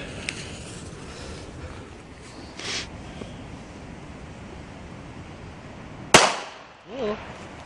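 A sharp, loud comet firework burst near the end, followed by a brief fizzing whoosh, over steady windy outdoor noise.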